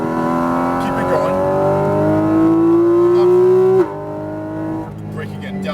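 A Porsche 718 Cayman GT4 RS engine on a racetrack winds up in one long rising howl for several seconds, loud and close, then drops sharply as it lifts off, with faint tire noise afterward.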